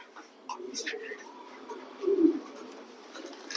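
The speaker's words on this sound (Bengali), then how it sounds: "বিদেশি কবুতরের বাচ্চা এটা" A young imported pigeon coos softly up close, a low rolling coo rising near the middle, with faint background voices and light rustling around it.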